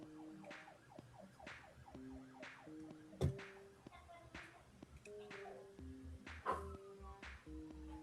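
A distant emergency vehicle siren wails in repeated rising and falling sweeps, steady and moderately faint under a busy indoor background of electronic tones and beeps.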